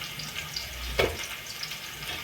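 Onion, garlic and cumin fry in hot oil for dal tadka, a steady close sizzle with one brief louder splutter near the middle.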